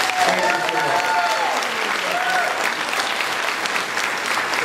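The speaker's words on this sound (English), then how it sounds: "Give them another round of applause." A folk festival crowd claps steadily for a German harmonica band, broad continuous applause with a few voices calling out over it.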